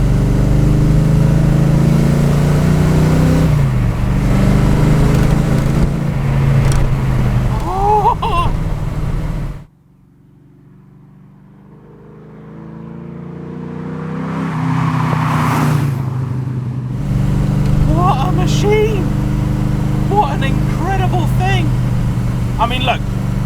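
A Le Mans race car engine drones loudly on the move, with tonal revs rising and falling and a break where it drops almost silent before surging back, while someone talks over it.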